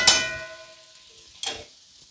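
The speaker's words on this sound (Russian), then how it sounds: "Хорошенько перемешиваем." Stirring pasta in a kazan cauldron: a sharp metal clang of the spoon against the pot at the start, then a second scraping stir about a second later, over a faint background hiss.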